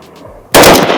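After a brief quiet moment, a single loud, close blast bursts from an INSAS light machine gun being fired at a BSF training academy, and a long rumbling tail follows it.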